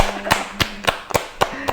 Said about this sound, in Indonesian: Tepuk tangan dulu untuk bintang tamu kita malam ini.